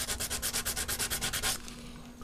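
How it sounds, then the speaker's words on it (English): Sandpaper rubbed back and forth over a small ridge on a camera lens, about a dozen quick, rhythmic rasping strokes up close, then fading to a softer scrape. "Just take your sandpaper"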